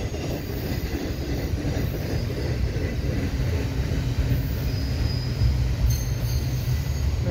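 CN double-stack freight train rolling past at St. Henri, a continuous close, loud rumble of wheels and cars with faint high squealing; a horn is not clearly distinguishable.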